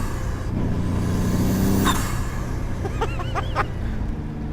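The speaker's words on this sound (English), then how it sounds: "all these massive chatters and fizzes from the wastegate as it opens and closes and dumps boost" A turbocharged engine in a Formula Ford-based race car hums steadily, then a brief whoosh followed by a few quick fluttering chirps as boost is dumped through the wastegate.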